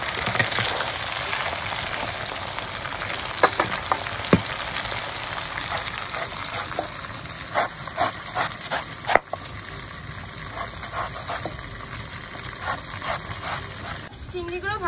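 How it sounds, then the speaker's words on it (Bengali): Large prawns sizzle steadily while frying in a pan for a Bengali malai curry, a continuous close crackle broken by occasional sharper pops and spatters, with a voice talking over it. "চিংড়িগুলো ভাজা হয়ে গেছে"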